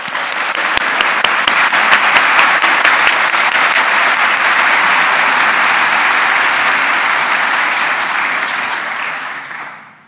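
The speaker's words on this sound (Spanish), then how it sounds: "de nuevo para todos ustedes un fuerte aplauso" Loud, sustained applause for new university graduates at a graduation ceremony fills the room, with dense steady clapping that holds for about nine seconds before fading out at the end.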